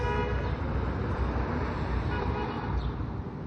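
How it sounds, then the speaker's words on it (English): Car horns honk in a busy street over a constant wash of traffic noise, with short and sustained toots from nearby vehicles blending into the roar. "There's the honking."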